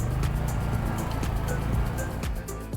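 A DuroMax XP11000IHT tri-fuel inverter generator runs on gasoline after a push-button start, giving a loud, continuous engine rumble with a busy mechanical clatter throughout.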